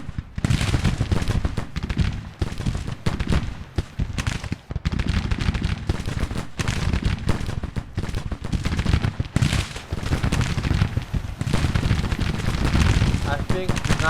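Infantry rifle volleys and musketry in a Civil War video game with Confederate troops, near-continuous loud crackling gunfire with dense overlapping shots and brief lulls throughout.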